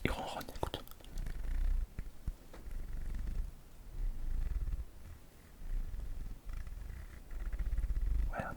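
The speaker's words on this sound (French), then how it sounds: "Il ronronne, écoute." A cat purring close up, a steady low rumbling throb that swells and eases in long breaths, with soft whispering over it.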